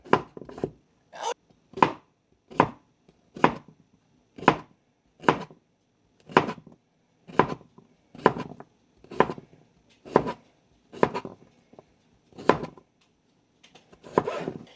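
A knife chops steadily through crisp cucumbers on a cutting board for pickles, about a dozen sharp, evenly spaced strokes, close and clear with no talking.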